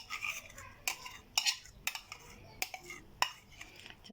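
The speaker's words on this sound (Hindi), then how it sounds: "घी को, ऑयल को और दही को अच्छी तरह आटे में मिक्स कर लेंगे" Ghee, oil and yogurt being worked into flour dough by hand, a series of soft, close clinks and scrapes against a bowl recurring irregularly, with quiet background and no talk.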